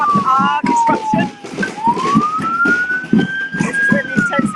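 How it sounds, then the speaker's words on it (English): A police siren wails at a climate protest, its pitch sliding down then climbing in a long rising sweep, loud and close over a busy crowd with people talking throughout. "The siren to disrupt our disruption."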